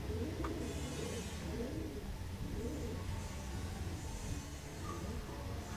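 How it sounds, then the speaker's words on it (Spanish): A female ash-grey pigeon in a loft coos in a repeated rolling rhythm, soft and fairly close over a constant background hiss. "Eso es una paloma hembra, mira. Paloma ceniza."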